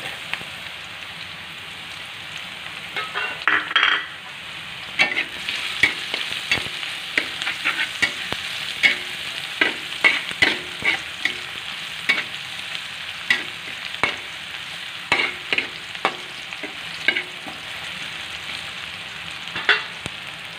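Onion and garlic sauté in a pan before meat goes in, a bright constant sizzle punctuated by frequent rhythmic scrapes and clacks of a spatula, close and fairly loud.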